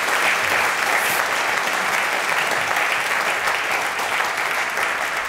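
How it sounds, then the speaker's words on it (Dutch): Dense, steady applause from a large audience at the Rotterdamlezing 2023 lecture at Erasmus University Rotterdam, a loud continuous wash of many hands clapping that holds evenly through the whole stretch with no voices over it. "Geef een heel hartelijk applaus, Annelien Bredenoord."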